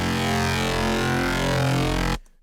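Sharp neuro FM synth bass built in FL Studio 12's GMS with unison phase set to 50, a dense, buzzy sustained tone held loud and steady for about two seconds before cutting off abruptly.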